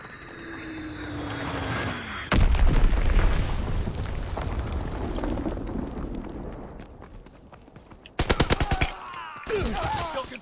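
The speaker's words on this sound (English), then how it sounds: "Dropping Azon bomb." An Azon bomb is dropped and explodes in the video game Call of Duty: WWII: a falling whine, then a heavy booming blast that rumbles on, followed later by sharp bursts of gunfire.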